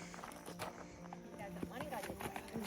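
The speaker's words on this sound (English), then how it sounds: "I had a good conversation with a couple of very nice ladies on horseback. And those horses are beautiful." Horses carrying riders walk a forest trail, with faint hooves clip-clopping at a steady walking pace under close talk and other voices nearby.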